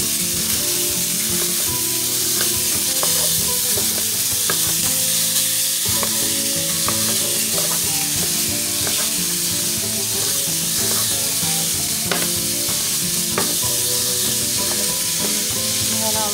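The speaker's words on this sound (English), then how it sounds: "In a heated pan, we're going to add our ground beef. All I'm going to do is break it up." Ground beef browns in a heated pan, a steady close sizzle and crackle of frying meat with scattered scraping as it is broken up and stirred, continuing throughout without speech.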